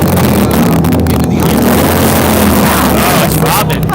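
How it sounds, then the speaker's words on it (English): Very loud motorcycles roar past during a Halloween parade in Bettendorf, Iowa, a continuous close engine drone with wind buffeting the microphone throughout. "Doing it for David with some very loud motorcycles, so I would assume David."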